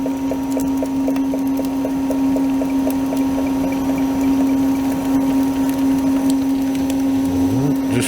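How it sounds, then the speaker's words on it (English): A Sentry water ice machine runs steadily with a constant hum and mechanical whir while rocket pop water ice dispenses into a bucket, with a low rising churn near the end. "now we can start dispensing into our bucket"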